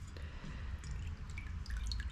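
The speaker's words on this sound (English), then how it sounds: "So we're just going to drain out as much water as we can." Water drains and drips from washed wheat gluten dough in a colander, a quiet steady trickle with small scattered drops over a low background rumble.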